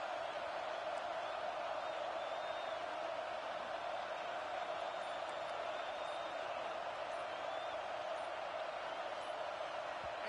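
Steady roar of a football stadium crowd in the final two minutes of a game, sustained and loud throughout with no breaks, rising to unsettle the offense before a false start.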